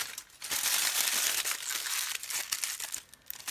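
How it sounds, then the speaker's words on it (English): Aluminum foil crumpled by hand to texture polymer clay book charms: a close, continuous crinkling and crackling that swells and ebbs over a few seconds, with no voices. "and we are going to crumple it up."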